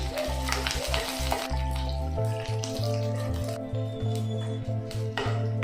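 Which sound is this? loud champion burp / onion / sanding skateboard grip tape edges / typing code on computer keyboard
onion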